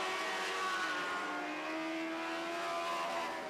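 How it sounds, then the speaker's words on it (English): A 2007 Henchcraft Lightning Sprint car powered by a 2008 Suzuki GSX-R 1000 motorcycle engine, racing in a heat, a high, buzzing engine wail held steady with slight pitch shifts as it runs at speed, moderately distant and continuous. "it's all Roland Bernard in the Henchcraft. That's a 2007 Henchcraft with a 2008 Suzuki GSX-R 1000 motorcycle engine"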